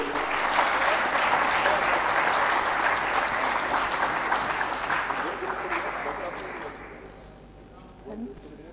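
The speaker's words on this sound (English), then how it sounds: "give him a big round of applause too" Audience applause at the 2nd Lahore Management & HRD Summit, a full round of clapping from the room that stays strong for several seconds, then thins and fades out with a few voices at the end.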